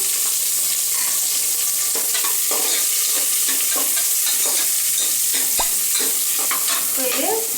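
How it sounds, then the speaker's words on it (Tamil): Onions fry in hot oil with cinnamon and cloves, a loud continuous sizzle close up, broken by repeated scraping and clinking as a spoon stirs the pan. No voices. "பட்டை கிராம்புலாம் புரிஞ்சதுக்கப்புறமா இதில் எடுத்து வச்சுக்கிற வெங்காயத்தை போட்டுடலாம்."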